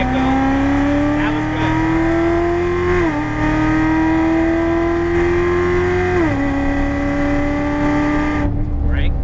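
Chevrolet Corvette C7 on a race track, its engine note rising steadily under acceleration, dropping abruptly at each shift or lift, then climbing again; loud and close throughout, with an instructor's voice coaching over it.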